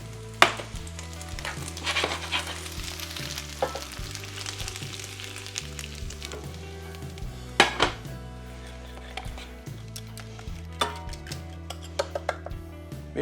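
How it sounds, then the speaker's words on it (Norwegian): A spoon scrapes and clinks against a pot while ingredients for a sausage gratin are mixed, with soft sizzling underneath and scattered sharp knocks of utensils on metal. "Jeg blander alt i kjelen."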